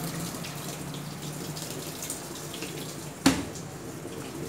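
Water runs steadily into a Samsung WA85U3 top-loading washing machine that is leaking under the spin tub, a continuous soft flow with one sharp knock partway through and no talking.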